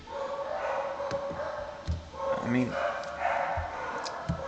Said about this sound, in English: got some dogs, man.